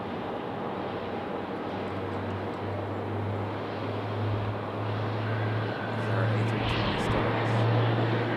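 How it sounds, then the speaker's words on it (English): A jet airliner approaching touchdown at Raleigh-Durham International Airport, its steady engine roar holding loud and broad throughout, with a low droning hum and a slight swell near the end. "That one going to touch down here in just a moment."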